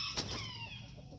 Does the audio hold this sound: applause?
no